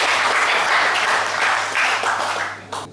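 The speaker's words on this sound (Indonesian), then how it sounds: "tepuk tangan untuk beliau." Audience applause at an award ceremony in Sidoarjo honouring medal-winning athletes, a dense steady burst of clapping that stays loud before thinning out near the end.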